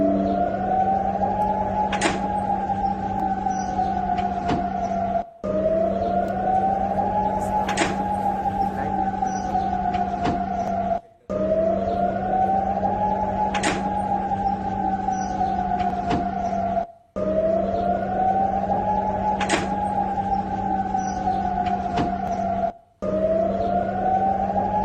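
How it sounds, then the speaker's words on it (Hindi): An attack-alert siren wails in long rising and falling cycles over a steady low hum, each cycle about five seconds and broken by brief gaps, sounding at moderate distance during Iranian drone and missile attacks. "वहां पर देखिए सायरन इस वक्त बज रहे हैं"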